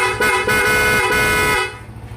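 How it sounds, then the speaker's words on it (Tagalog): Loud car horn blaring steadily for about one and a half seconds, with a brief dip in the middle, on a vehicle with freshly rewired horn circuit and battery, then cutting off to a quiet hum. "Busina."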